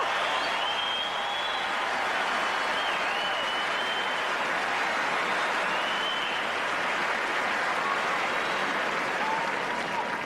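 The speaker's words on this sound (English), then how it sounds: "Roddick applauding with everyone else when Aynaoui cooked up that winner" Tennis crowd at the 2003 Australian Open quarterfinal applauding a winning shot, a steady, dense wash of clapping that holds loud and even for the whole stretch, with scattered whistles riding above it.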